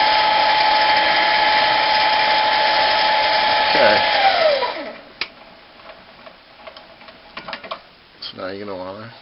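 Harbor Freight 7x10 mini metal lathe drilling a hole in metal, a steady motor whine with a rising squeal from the cut that stops midway, then handling clicks and a brief whir under quiet talk.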